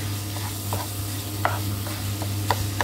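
Ground meat half-cooked and frying in a pan for a bolognese sauce, a close steady sizzle with a low hum beneath and a few soft stirring scrapes, no talking.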